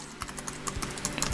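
Steady typing on a physical keyboard paired with an Onyx Boox Max Lumi e-reader tablet, a rapid run of crisp close keystrokes with no talk.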